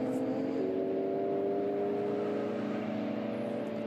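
Race cars in a GT4 European Series race at the Red Bull Ring, including a Lotus Evora GT4, give a sustained high engine drone with steady tonal whine, moderately distant and unbroken, with no talk.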